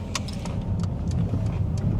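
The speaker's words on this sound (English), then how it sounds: "there is a car coming which is quite fast" A fairly fast car passes on a road in Glasgow, heard from inside another vehicle as a steady, loud low rumble of engine and tyre noise lasting the whole stretch.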